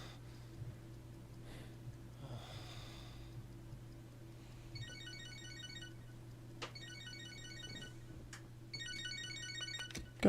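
A phone ringtone from the video game Catherine trills in three repeated bursts over a steady low electronic hum, with a few sharp clicks between them.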